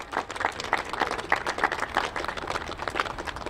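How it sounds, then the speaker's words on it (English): Crowd applause at a Forward Latino gathering honoring people who came together to defend the US Constitution; dense, steady clapping from many hands with small rhythmic swells, continuing throughout without speech. "Let's give them all a round of applause."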